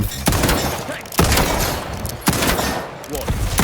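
Rapid weapon fire in the video game Highguard, loud bursts of repeated shots with brief gaps between volleys, a voice talking faintly underneath.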